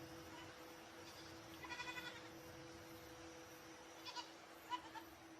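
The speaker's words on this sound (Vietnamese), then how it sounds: "Là tiếng dê" Goats belonging to Karen farmers bleat in short, wavering bursts several times, somewhat distant and faint over a steady hum and background noise.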